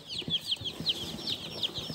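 Chicks peep rapidly in high, thin chirps, many overlapping in a continuous busy chorus, close by with no talking.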